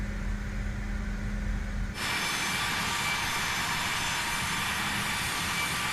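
A CRJ 900 regional jet sits parked with its engines left running in Microsoft Flight Simulator 2020. A steady engine hum gives way to a louder, brighter broadband roar about two seconds in, which continues evenly to the end.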